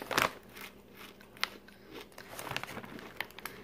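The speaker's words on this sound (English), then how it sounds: "Excuse me while I chew." Crunchy garlic bread flavored snack is chewed up close, giving loud irregular crunches and crackling bites with softer mouth noises between them and no talk.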